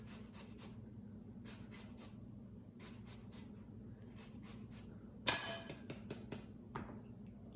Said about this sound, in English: I'm gonna zest a lime.